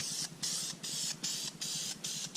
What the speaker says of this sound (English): might as well put on some of this Rust Stop spray paint